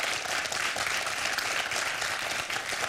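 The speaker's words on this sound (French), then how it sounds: "On applaudit" Studio audience on a French televised quiz show applauds the contestants, with steady dense clapping filling the whole stretch at even loudness and no voices over it.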